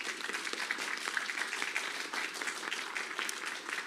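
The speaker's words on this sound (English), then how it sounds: "so let's give her a round of applause." Applause from an audience at a women's leadership council meeting, a steady, moderate patter of many hands clapping together, heard somewhat distant and fairly quiet throughout.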